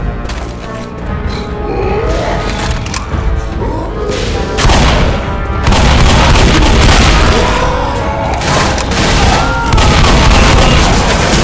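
Dense, loud gunfire from the video game Left 4 Dead on The Mortuary map, with heavy booming shots crowding together almost without pause over the whole stretch and some faint voice-like sounds underneath.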